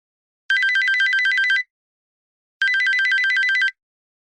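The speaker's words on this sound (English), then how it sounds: "Mizu ringtone 8 sec." A Mizu phone ringtone plays as two identical bursts of rapid, bright electronic trilling, each about a second long and separated by a silent gap, loud and clean.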